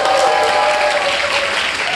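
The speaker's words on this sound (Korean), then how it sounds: "박수 소리 두 번 하지 않아도 괜찮을 것 같아요" A seminar audience at a business presentation in Gangnam claps together, loud and dense, with crowd noise and a voice faintly under the applause.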